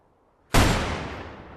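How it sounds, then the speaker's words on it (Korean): A single sharp gunshot in a Korean film scene cracks loudly after near silence, then a long reverberant tail fades slowly. "조진웅이 류준열을 마주하고 들리는 총소리로 1편이 마무리되었었죠."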